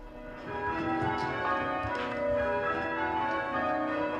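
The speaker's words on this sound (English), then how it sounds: "hear the bells of Holy Trinity ringing out" Church bells of Holy Trinity Church, Stratford-upon-Avon, ring out continuously, overlapping resonant peals that sustain and blend together, fairly loud with a steady rolling rhythm.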